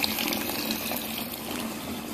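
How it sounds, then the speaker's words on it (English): Tap water runs steadily into a denture cup being filled about halfway, a continuous close pouring and splashing hiss with no talk. "I'm now filling it approximately halfway with water."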